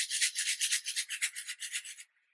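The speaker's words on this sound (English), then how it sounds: "who else loves that sound of a shaker card?" Rapid rattling of small loose pieces inside a shaker card, shaken back and forth in quick bursts for about two seconds, then it stops.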